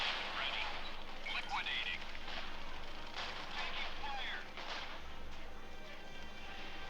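In the strategy game Art of War 3, fortresses battle grenadiers in assault mode, with scattered gunshots and crackling blasts popping over a quiet, steady background.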